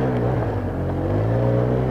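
An ATV engine drones steadily and loudly at close range as the quad rides a rough mountain gravel road, with a constant low motor hum and no talking.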